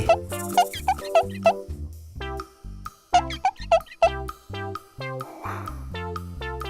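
Colorful play dough squeezed from a piping tube onto a toy ice cream machine, soft plopping squishes in quick bursts amid bright cartoonish music, close and clear.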